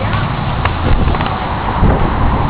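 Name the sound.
strong wind of a storm, possible tornado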